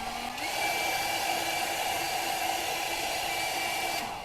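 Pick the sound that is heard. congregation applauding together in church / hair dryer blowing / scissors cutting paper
hair dryer blowing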